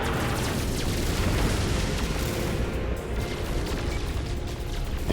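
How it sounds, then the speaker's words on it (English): Anti-ship turret fire during a space battle in No Man's Sky, a continuous, loud rumble of explosive booms and bursts that rolls on steadily for several seconds without any voices. "Anti-ship turret."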